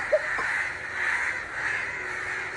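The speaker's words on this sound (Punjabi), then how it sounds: "ਇੰਨੇ ਕਾਂ ਪਤਾ ਨਹੀਂ ਕਦੋਂ ਇਕੱਠੇ ਹੋ ਗਏ ਆ" A large flock of crows gathered in a village caws in a dense, continuous chorus, with a louder nearby caw at the start over the distant overlapping calls.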